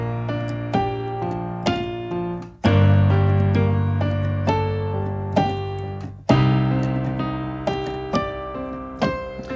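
A song played on piano with the sustain pedal held, low bass notes ringing on under steady chords and melody, notes blending into a full, continuous sound, close and clear with no talking.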